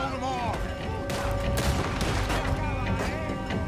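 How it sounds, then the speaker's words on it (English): Rapid volleys of gunfire from the Red Dead Redemption 2 video game, dense overlapping shots and booms filling the whole stretch, loud and continuous, with a voice talking underneath. "Let's shoot from here."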